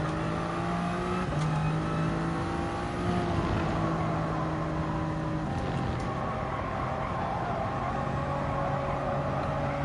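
Race car engine in a racing video game warm-up, revving steadily with shifting pitch, loud and continuous with no talking.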